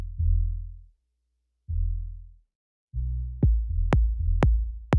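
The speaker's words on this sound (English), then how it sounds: "So the sub bass would sound something like this." Deep classical sub bass notes from an organic shamanic house production, a few sustained low tones with gaps between them, then a steadier bass line with sharp clicky percussive hits layered on top, heard alone.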